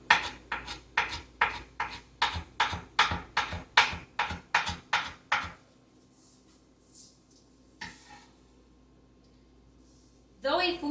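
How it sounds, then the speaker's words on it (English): A knife chops finely through cilantro, pepper and onions on a cutting board in a quick run of about a dozen sharp, evenly spaced close strokes, then stops, with a few faint knocks after and another burst at the end. "let's just run that knife over, chopping it very finely"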